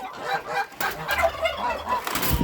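A turkey gobbles repeatedly among chickens in a muddy poultry yard, the calls close and fairly loud with clucking fowl around.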